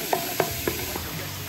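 Ground meat for Bolognese cooking in a pot, with a few soft stirring scrapes and pokes over a steady low bubbling sizzle, close and moderately quiet.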